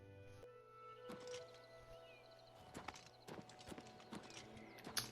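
Horse hooves clip-clop at a walking pace in the fantasy game Oblivion Remastered, a steady run of close, crisp hoof strikes over a low game ambience, with no talking.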